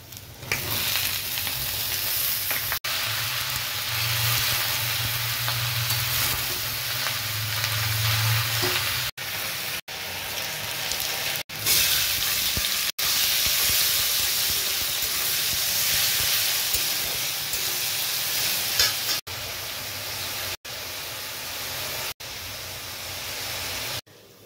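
Onions fry in a pan ahead of snake gourd for a Bengali home dish, a loud continuous sizzle and hiss close up with occasional stirring noises.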